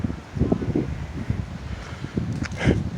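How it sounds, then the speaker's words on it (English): Gusty wind of roughly 30 to 35 mph blows outdoors while fire ash falls, a rough rumbling rush that swells and eases in uneven surges with no talk over it. "now the wind is increased again"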